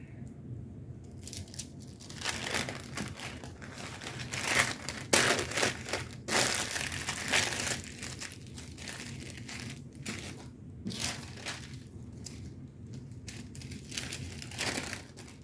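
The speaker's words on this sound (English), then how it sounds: "Now I'm going to use this paper that I've already got out." Paper crinkles and crumples close up as burrito bundles for low-carb meal prep are wrapped, in irregular bursts of rustling and crushing with short pauses, no voices.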